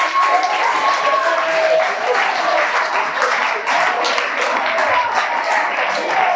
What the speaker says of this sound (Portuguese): Salva de palmas para todos os professores.